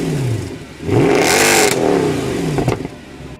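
A Mercedes C63 AMG W204 engine revs hard through its exhaust, a loud, close rising blip that holds and then falls away, followed by a quick second rev and crackle.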